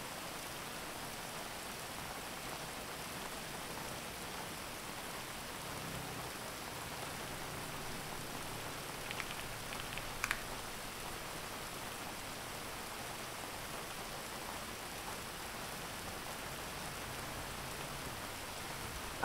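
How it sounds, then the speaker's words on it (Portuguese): Steady rain falls continuously, a dense even hiss of drops with no voices and only a faint click partway through. "a chuva caindo aí"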